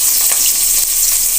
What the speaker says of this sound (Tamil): பெரிய வெங்காயத்தை நல்லா ஆயிலில் நல்லா வதக்கி எடுத்துக்கோங்க.